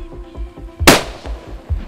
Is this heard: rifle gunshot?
yes